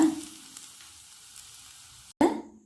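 Ingredients frying in hot groundnut oil for kara appam, a crisp Tamil festival snack, give a steady close sizzle; it breaks briefly, then returns as a louder burst of crackling as more goes into the pan.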